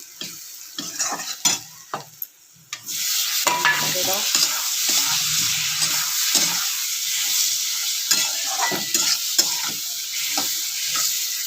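Tomatoes frying in hot oil with turmeric, chilli and spices in a pan: a steady sizzle with repeated stirring scrapes and a few utensil knocks, close and fairly loud, with no talking.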